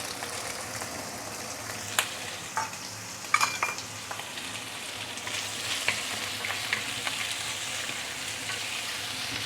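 Marinated meat and prawns fry for mee sua in a hot pan, a close, steady sizzle with a few sharp clicks and scrapes of stirring and no talk.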